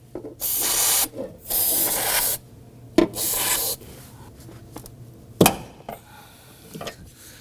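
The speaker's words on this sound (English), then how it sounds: "Sometimes by spraying some spray solvent around the perimeter here, it'll help loosen this." Several hissing bursts from an aerosol can of solvent sprayed around a fuel pump module on a Volvo XC90, each lasting about a second, separated by short pauses with a few clicks and metallic taps.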